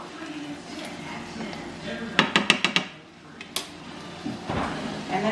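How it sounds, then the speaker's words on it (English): Chicken pesto stirred in a pan, with a quick run of sharp metal clinks and scrapes from the utensil against the pan partway through, set against a low kitchen background with a voice talking. "And then just keep stirring that up"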